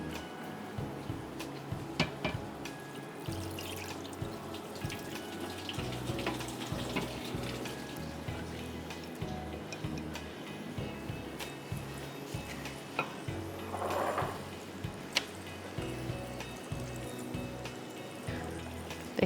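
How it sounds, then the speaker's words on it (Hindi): Soaking water draining off rice in a kitchen, a steady close trickling and splashing of water with intermittent clatter, briefly swelling midway, no speech. "चावल में से पानी निकाल दें जो कि हमने सोक किया था।"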